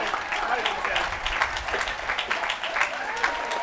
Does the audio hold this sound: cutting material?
no